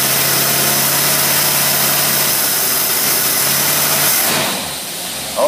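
Engine fitted with a Holley carburetor running steadily at high revs, a loud sustained roar that holds for about four seconds before dropping off toward idle.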